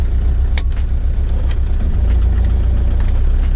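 A Range Rover Classic swapped with a TDI diesel engine idles steadily, a loud, even low rumble with a faint rhythmic diesel clatter and a brief click near the start, no voices.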